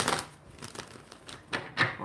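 Tarot cards shuffled by hand during a live reading, a series of soft papery riffles and taps in irregular bursts, close and fairly quiet.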